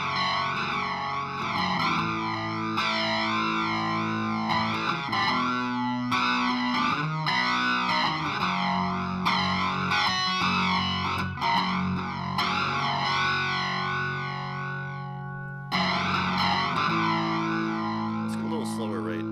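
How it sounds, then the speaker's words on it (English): An electric guitar played through a classic flanger set to a slow sine-wave sweep with short delay time and some feedback, sustained chords swirling and whooshing up and down as the notes ring out in a continuous, loud passage. "we want to go back to our really classic flanger sound,"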